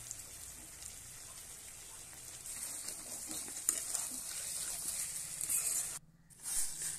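Pieces of chicken fry in a pan with a steady, hissing sizzle and soft crackle, briefly cut off near the end before the frying hiss returns.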